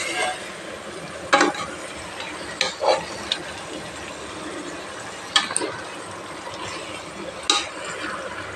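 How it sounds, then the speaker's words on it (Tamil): Chicken sautéing in a pan gives a steady close sizzle, broken by occasional scraping stirs that jump out louder. "கொஞ்ச நேரம் வதங்கட்டும்"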